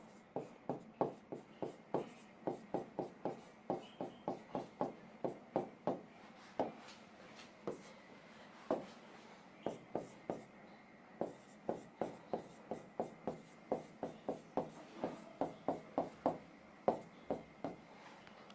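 A pen scratches across paper in quick, rhythmic strokes, close and fairly quiet, writing out notes by hand with short pauses between bursts of marks.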